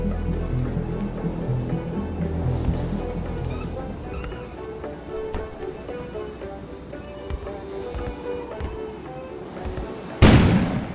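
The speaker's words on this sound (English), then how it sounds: "An explosion suddenly occurred outside." A sudden explosion bursts outside in the video game Kona, a sharp loud blast near the end that cuts through a steady bed of game music and ambience.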